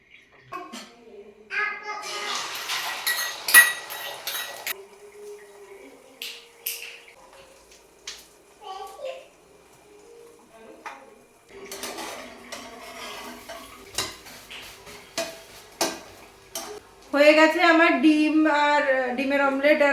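An egg omelette with garlic, chili and onion is prepared in a home kitchen: clinks of utensils against dishes, scattered taps and scraping, and running water near the end, with someone talking over much of it.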